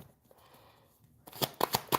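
Near silence, then a short, close riffle of playing cards being shuffled: a few quick, crisp flicks.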